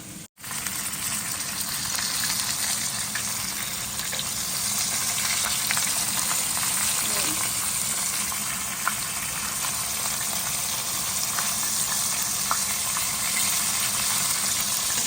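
Fermented sour fish (pla som), two pieces, frying in hot oil: a steady, close, full sizzle with constant bubbling crackle and a few small pops, running unbroken without talk.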